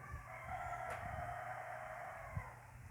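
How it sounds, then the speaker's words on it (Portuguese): A rooster crows in the distance, a faint drawn-out call over low background hum, with a soft thump near the end. "Escutou o galo cantando aí?"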